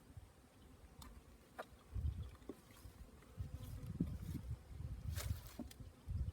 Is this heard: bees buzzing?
yes